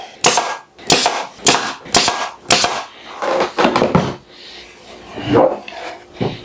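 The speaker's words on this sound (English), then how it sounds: "And we'll staple that in place." Sharp, loud staple-gun shots fasten a wooden five-frame bee nuc box, five quick evenly spaced snaps followed by a few softer knocks and handling sounds nearby.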